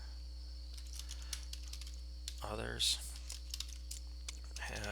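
Quick bursts of typing on a computer keyboard patter in short runs, with a brief spoken word partway through over a steady low electrical hum.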